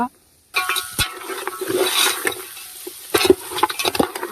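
Goat head curry hits a hot pan with a sudden loud sizzle, then frying crackle and scraping stirs continue close up, surging again near the end.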